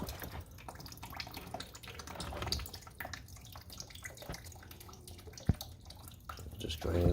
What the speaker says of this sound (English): Just draining the rest of that fluid out.